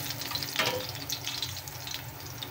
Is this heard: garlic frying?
yes